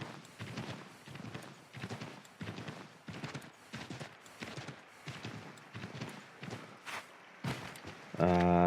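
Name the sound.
horse hooves clip-clopping in the video game Assassin's Creed III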